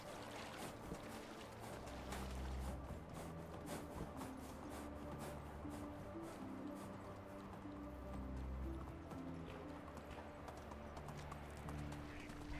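Horse hooves gallop in the medieval survival game Medieval Dynasty, a steady, continuous clip-clop rhythm that stays close and even throughout, with no talking.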